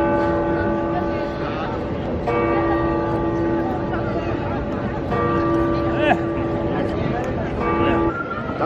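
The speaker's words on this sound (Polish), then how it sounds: "jak zaczęły dzwony bić." Church bells in Kraków ring out at noon, sustained tones sounding continuously over a busy crowd with people talking nearby.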